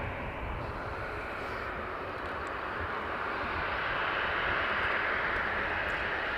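An Aer Lingus airliner arriving from Madrid and approaching Dublin Airport makes a steady, broad engine roar that holds loud and constant throughout, building slightly toward the end.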